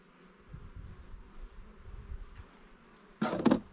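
Honeybees in an open beehive hum with a low, steady buzz close by. Near the end, a louder, brief rustle of handling noise cuts in, and no one speaks.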